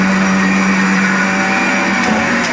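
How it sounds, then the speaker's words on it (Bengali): Mixer grinder blending soaked dried coconut with water into a paste for coconut sweets, a loud steady whirring drone close by throughout with no talk. "এখন মিক্সিতে পেস্ট করছে"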